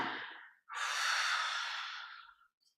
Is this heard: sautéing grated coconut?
no